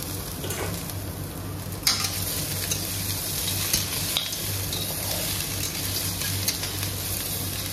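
Steady sizzling of boiled pork frying in a pan with onions, with occasional scraping stirs, constant and moderately loud with no talking.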